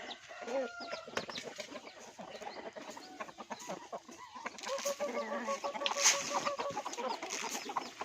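Hens cluck and chatter continuously nearby, several birds overlapping in a busy farmyard with no one talking.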